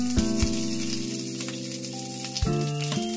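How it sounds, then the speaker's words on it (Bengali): About two spoonfuls of ghee sizzle in a pan for tempering a gravy, a close, steady crackling hiss running throughout beneath sustained tonal background music. "গ্রেভির মধ্যে এবারে উপর থেকে একটা ছোপ দিতে হবে, যার জন্য আমি নিয়ে নিচ্ছি 2 চামচের মতো ঘি।"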